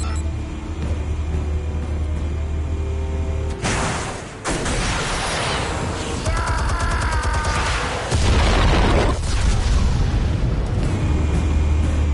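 Explosives detonate in a Batman video game with booming, rumbling blasts over a steady low drone, several heavy impacts and crackling debris rolling through the scene.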